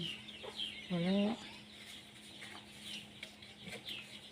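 Chickens clucking nearby, with one loud rising squawk early on, then softer scattered clucks over a quiet background.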